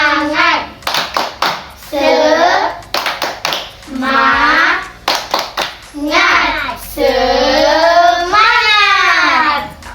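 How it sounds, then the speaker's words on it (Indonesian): A class of schoolchildren claps out a rhythmic spirit cheer, sharp bursts of hand claps in patterned groups alternating with loud, sing-song chanted voices, close and energetic. "Tepuk semangat."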